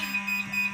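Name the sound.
fire alarm going off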